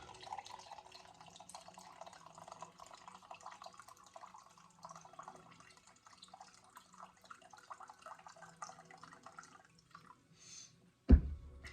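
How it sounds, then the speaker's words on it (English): Tap water runs steadily into a bottle for about ten seconds, with small drips and splashes, then a brief louder knock near the end. "I'm just going to take my water, fill her up."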